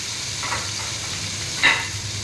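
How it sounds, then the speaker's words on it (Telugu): Chicken pieces go into hot oil for gongura pulao and give off a loud, steady close sizzle with a hissing wash throughout, marked by a brief sharper crackle near the end. "వేసేటప్పుడు కొంచెం సౌండ్ వస్తుంది గాయస్, వాటర్ ఉంటాయి కదా దాంట్లో, అందుకని ఆయిల్ ఉంది అందుకని."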